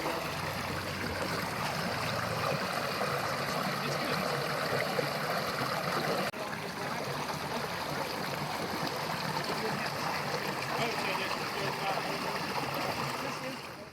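A small creek flows with a constant soft babble and trickle nearby, a steady wash of water that fades slightly at the end.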